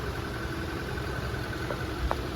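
A car engine idles steadily during a MAP and MAF sensor lab, a continuous low rumble with a faint hum and a couple of small clicks, with no speech over it.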